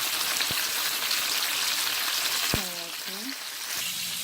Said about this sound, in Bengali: তারপর এখানে আলু আর টমেটো ভাজার জন্য দিয়ে দিলাম।